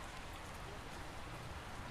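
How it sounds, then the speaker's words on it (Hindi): Steady rain falling outdoors, a continuous dense hiss of drops at an even level with no talk over it. "देखिए बारिश चालू हो गई है।"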